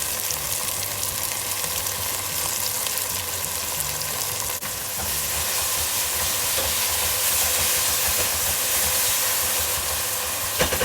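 Ground ginger-garlic paste hits a hot pan with tomatoes while cooking mutton biryani, giving a loud, steady, close sizzle and hiss that holds evenly without any talk.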